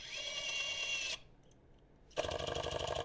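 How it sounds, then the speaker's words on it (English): A Miniware ES15S electric screwdriver whirs in two short bursts while tightening a screw, with a pause between them. The motor sounds close and high-pitched, with no talk. "It just basically does like a clockwise rotational burst to get that a little bit tighter."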